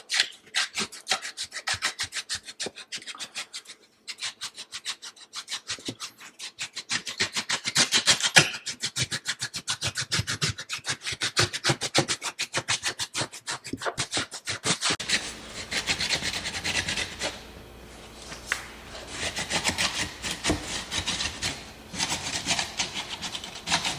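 A pry tool works a baseboard loose from a wall above a tiled floor, with continuous close rasping and scraping strokes and a brief pause partway through.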